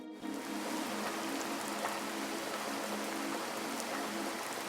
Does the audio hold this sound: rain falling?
yes